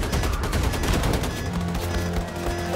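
Rapid gunfire in the shooter video game Wolfenstein II, dense overlapping bursts of automatic weapon shots, loud and close, with a few lingering tones as the firing continues.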